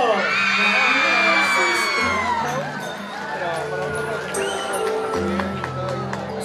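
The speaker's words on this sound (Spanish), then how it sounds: "¡Chicas, un grito!" Girls at a quinceañera party scream and cheer together, a loud, close burst of high-pitched shouting that starts at full strength and then settles into a sustained, lively crowd roar.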